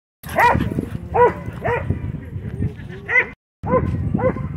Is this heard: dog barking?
yes